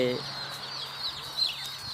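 Laying hens cluck in a coop of bantam chickens, with several overlapping clucks close by and a steady low hum underneath.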